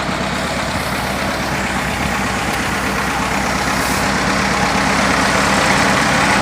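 An old-model engine idles in a steady, even rumble, loud and close with a constant low throb and dense hiss throughout, no voices.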